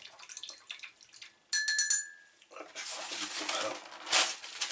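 Water splashes and runs in irregular bursts while Ducati 1199 Panigale S motorcycle parts are rinsed, preceded by a brief ringing metallic tone and a few small knocks, close and fairly quiet.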